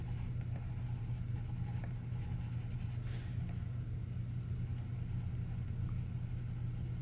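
Oil-based colored pencil strokes lightly across paper, laying down color in layers with gentle pressure, a soft continuous scratchy rasp under a steady low rumble of background noise.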